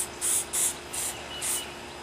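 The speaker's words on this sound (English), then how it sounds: "spray the barrel down inside the cylinders" Five short bursts of cleaner spray hiss in a steady rhythm into a revolver's barrel and cylinders, close and fairly loud, with brief pauses between each squirt.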